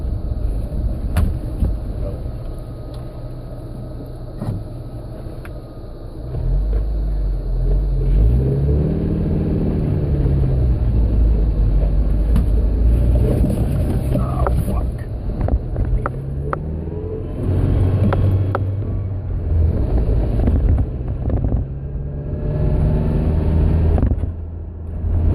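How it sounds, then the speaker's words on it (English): A manual transmission car slowing by engine braking, its engine a steady low rumble that swells and fades with road noise, heard from inside with someone talking over it. "I'm going to slow down with the transmission"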